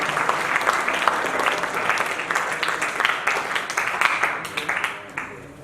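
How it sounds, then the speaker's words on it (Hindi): At a national seminar honoring Swami Dayanand Saraswati's birth anniversary, the audience welcomes the university vice-chancellor with loud, hearty applause that holds strong for several seconds, then tapers off near the end as voices murmur beneath. "जोरदार तालियों से उनका स्वागत"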